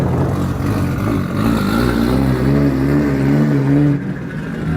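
A VAZ 2105 car pulls away in second gear, its engine note droning loud and close and slowly rising in pitch as it labors, then easing off near the end.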